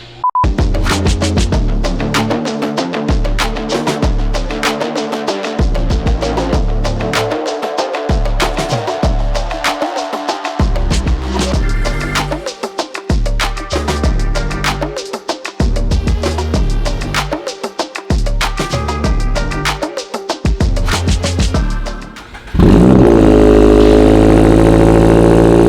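A Toyota GR86 fitted with a budget catback exhaust runs hard on a dyno, its loud engine droning and rising through the revs with brief pauses, then settling into a steady idle near the end.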